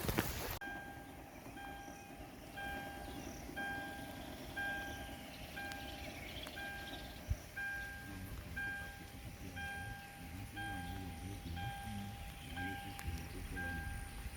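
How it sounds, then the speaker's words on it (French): Steady rain patters continuously, close and even, beneath faint tonal hums and distant low rumbles, with no voices. "Comme vous pouvez le constater, il pleut."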